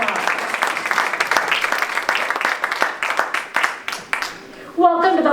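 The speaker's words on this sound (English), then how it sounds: "Give yourselves a round of applause." A crowd applauds with dense, steady clapping that holds for several seconds, then fades as a voice speaks at the end.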